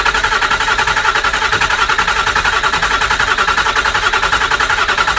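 Engine cranking on the starter during a cylinder compression test, a steady, loud, even churning drone with fast regular pulsing that holds for the whole stretch.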